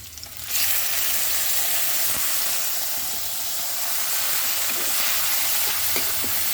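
Pork marinated in dried fish drops into a hot pan and sizzles, a sudden loud hiss that settles into a steady, close crackling fry with occasional spatters, no talking.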